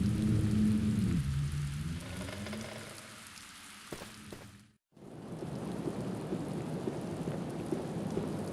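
Heavy rain and gusting wind pour in through a broken window in the video game Black Mirror, a steady loud downpour with a low rumble early on, briefly cutting out before the rain resumes alone.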